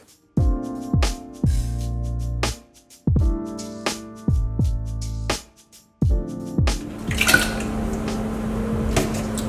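A pot of beef stew bubbling on the stove, with metallic clanks and ringing tones first and then a steady simmering crackle toward the end.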